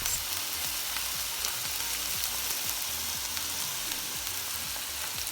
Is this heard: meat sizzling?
yes